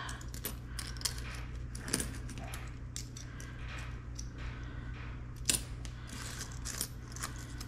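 Loose coins clinking and jingling as they are handled up close, with irregular metallic taps and small clatters scattered through a quiet indoor setting, no talk.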